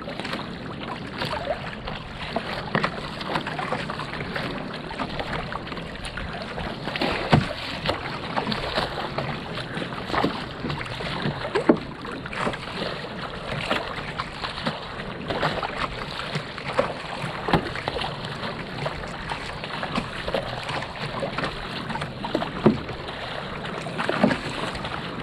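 A surfski paddler out on the ocean takes regular strokes, each blade catch and pull making a soft rhythmic splash over a constant wash of wind and water.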